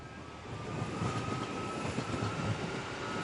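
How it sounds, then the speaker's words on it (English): Aurizon intermodal freight locomotives shunting at the Adelaide Freight Terminal give a loud, steady rumble of rolling wheels and rail noise, with a faint tonal squeal running through it. "shunting commences to return to the motive power centre at Dry Creek"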